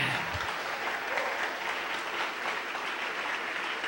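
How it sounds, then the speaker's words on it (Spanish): Sustained applause from a large church congregation during a sermon fills the space, a thick continuous wash of clapping that holds at a steady level throughout. "Denle un aplauso al Rey en esta preciosa noche"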